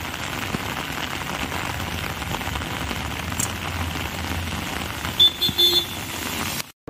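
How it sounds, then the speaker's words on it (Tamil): Heavy rain pours in Madurai, a dense continuous hiss of drops on surfaces throughout, with a few brief sharper knocks near the end and a sudden cut at the close; no thunder or wind stands out distinctly. "மதுரையில் திடீரென்று லேசான காற்று மற்றும் இடி மின்னலுடன் கொட்டி தீர்த்த"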